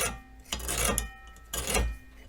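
A metal scribe guided along a square scratches across rusty metal in two distinct rasping strokes, close and fairly crisp, with a brief pause between them.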